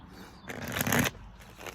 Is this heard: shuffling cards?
yes